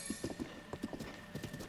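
Horse hooves clip-clop in a steady walking rhythm while riding in a video game, the hoofbeats close and fairly quiet with no talking.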